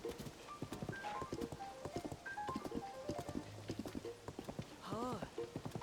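Horse hooves clip-clop at a trot in the video game Zelda: Tears of the Kingdom, a brisk, even rhythm of quiet hoofbeats while someone talks and calls out over them.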